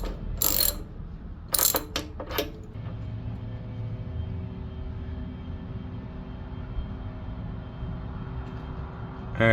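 A socket ratchet clicks loudly in a few short bursts while loosening the spark plug on a pressure washer engine, then falls silent, leaving a faint steady background hum.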